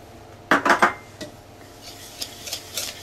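Butter and two sugars mixed with a utensil in a bowl for peanut butter cookies: a brief cluster of scraping clinks near the start, then a few lighter taps and scrapes, close and alone.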